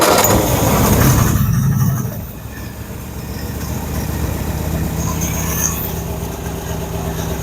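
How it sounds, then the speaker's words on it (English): A 1961 Nash AMC Metropolitan barn find starts with a loud mechanical burst that gives way to a steady rumbling engine idle carrying on evenly to the end. "Just fires right up."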